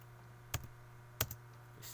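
A few sparse, quiet keystrokes on a computer keyboard, isolated clicks spaced apart over a low steady hum while a command is typed, with no talk.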